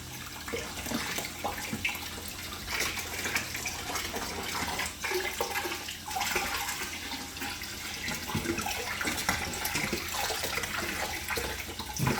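Water from a hose sprays and splashes against the walls of a turtle tank during cleaning, a continuous hissing rush with shifting splatter, fairly quiet and steady throughout with no voices.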